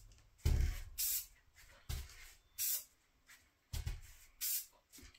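Can of speckly silver Rust-Oleum sprayed onto a bike hub in several short, close hissing bursts, each about half a second long, with brief quiet gaps between them.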